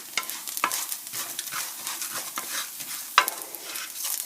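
Rice frying in a pan while being stirred, a continuous crackling sizzle broken by scraping strokes of the utensil and a couple of sharper clacks against the pan.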